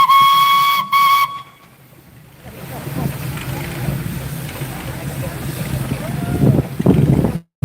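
An 8 horsepower steam road locomotive at the Stradbally steam rally sounds its whistle in two loud, clear blasts, followed by quieter hissing steam and general engine noise in the background.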